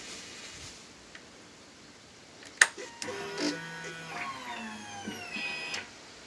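On a Suzuki Bandit 1250 motorcycle, the fuel pump pressurizes after a click, giving a faint, close electric whir that hums for about three seconds before cutting off in a quiet setting.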